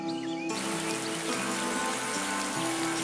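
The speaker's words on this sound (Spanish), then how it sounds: "La lluvia de la nube regará nuestras plantas." Soft steady patter of cartoon rain falling from a cloud onto plants in a children's strawberry-themed gardening video game, a continuous gentle hiss with light droplet ticks over a faint background tone, playing alone without voices.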